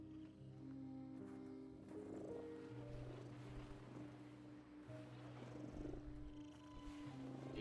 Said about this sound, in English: Do you hear a cat purring or is it me?